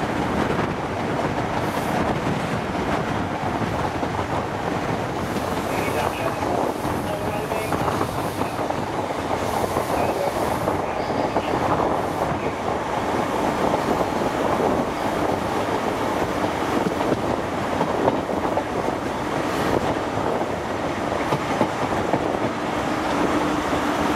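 HST 43070 passenger train between Cardiff and Swansea accelerating to 100 mph, a constant loud roar of wheels and rushing wind heard from inside the carriage, with faint voices in the background.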